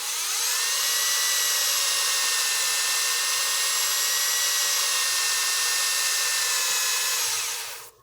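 A drill runs in reverse against the rotation of a wooden cake stand turning on a lathe, sanding it with a loud, constant whine for nearly eight seconds before winding down at the end.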